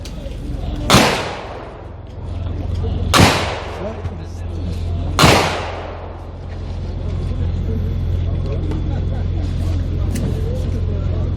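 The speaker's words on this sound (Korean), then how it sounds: "의장대 조총 발사!" An honor guard fires a ceremonial three-shot rifle volley at a memorial service: three sharp, loud cracks about two seconds apart, each ringing out with a decaying echo over a steady low outdoor hum.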